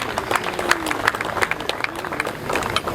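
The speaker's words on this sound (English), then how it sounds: "Let us not, give them a round of applause." Scattered applause from an audience at a South African Freedom Day 2019 event hosted by the High Commission, a fairly steady patter of claps with some crowd noise, moderately loud throughout.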